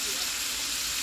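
Green, yellow and red peppers frying in a cast iron pan on a low fire, a steady soft hiss that lasts the whole short moment with no other sound over it.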